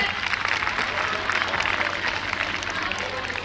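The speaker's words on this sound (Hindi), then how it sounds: "जोरदार तालियां बजा दीजिए" An audience at a school annual function applauds after a dance performance, with dense, sustained clapping that stays steady and fairly loud throughout and a light crowd murmur underneath.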